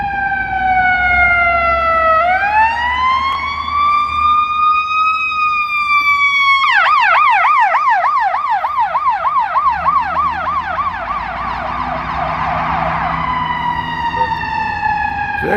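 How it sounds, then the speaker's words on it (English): Ambulance sirens passing on a Chicago city street in the morning, loud and continuous, sweeping through a slow wail then shifting into a rapid yelp before easing back, with traffic noise underneath. "Oops, here comes some sirens here. Here comes the ambulance."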